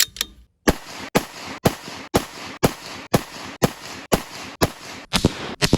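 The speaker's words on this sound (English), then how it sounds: "I do have some 223 AI that I need to fire for him." A .223 AI rifle fires fire-forming loads, about eleven loud, sharp shots evenly spaced roughly half a second apart after a short silence, each one close and cracking.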